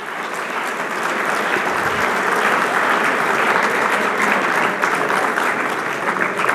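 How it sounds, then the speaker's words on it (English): An indoor audience at a college honors event breaks into sustained applause for the honorees, with dense clapping that builds within the first second and holds steady throughout. "Give them a round of applause."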